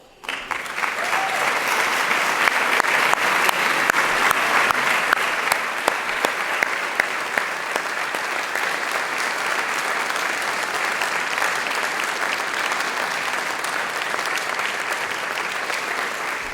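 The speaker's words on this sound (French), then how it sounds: "j'aimerais que tous ceux qui, d'une manière ou d'une autre, œuvrent pour notre institution se lèvent pour qu'on puisse les applaudir" Sustained audience applause for an institution's volunteers, a broad, even roar of many hands clapping that swells in the first few seconds and then continues steadily at a moderate level throughout.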